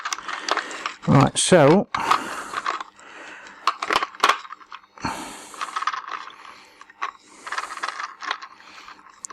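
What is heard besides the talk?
removing screws from inside a PS3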